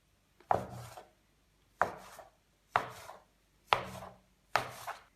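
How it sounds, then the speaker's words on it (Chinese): A knife chops through oil pastry dough on a board with five evenly spaced, crisp cuts, each a sharp thud against the surface, close and clear with no talking. "取出油酥面团，整理成长条状， 同样切成6等份"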